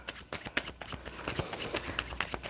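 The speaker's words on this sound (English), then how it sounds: "I am shuffling for the Scorpio collective" Tarot cards being shuffled by hand, a crisp run of papery riffles and soft slaps in a quick uneven rhythm, close and fairly quiet, with no talking.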